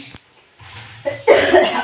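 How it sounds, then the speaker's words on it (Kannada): A single loud, close cough bursts out after a short quiet stretch, followed by a rough exhale. "ಕೆಮ್ಮು ಸ್ಟಾರ್ಟ್ ಆಗಿಬಿಡುತ್ತೆ ನನಗೂ ಕೂಡ"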